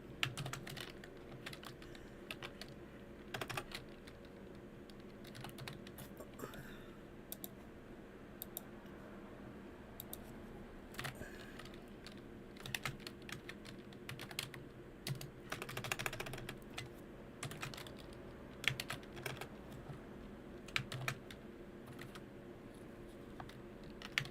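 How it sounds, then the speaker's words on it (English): Keys clatter in quick irregular bursts on a computer keyboard, fairly quiet and close, with no voices over the typing. "typing in names in the chat and see if somebody shows up."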